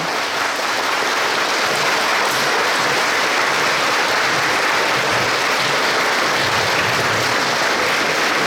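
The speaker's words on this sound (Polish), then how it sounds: "za te piękne występy należą się gromkie oklaski naszym małym bohaterom" Loud, sustained applause from a school assembly audience for young children's performances at a pledge ceremony, a dense continuous wash of clapping with no speech.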